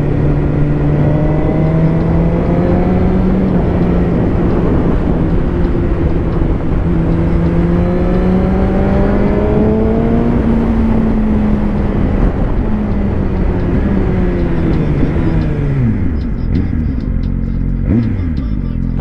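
A Suzuki GSX-R 1000 sport motorcycle ridden on a road, its engine droning loud and close throughout, with pitch rising and falling through gears and dropping sharply under braking near the end.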